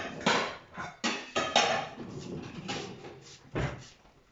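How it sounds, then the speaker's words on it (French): Pots and pans clatter as a saucepan is pulled from a kitchen cupboard, with several sharp knocks and bangs of cookware and a cupboard door, close and fairly loud, in separate bursts with quieter rummaging between. "Je vais sortir une casserole."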